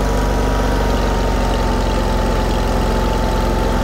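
A 48-inch commercial-grade eXmark Lazer Z HQ zero-turn riding lawn mower engine idles loudly and close, with a steady, even low rumble and fast regular pulsing throughout.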